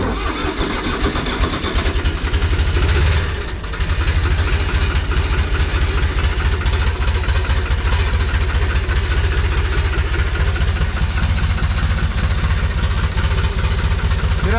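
At a shepherd's hut, a tractor engine idles loud and steady as it warms up. Its low, continuous rumble dips briefly early on and then holds constant throughout.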